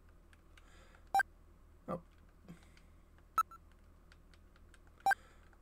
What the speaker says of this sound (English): let's use the video phone. Call. What number should I dial?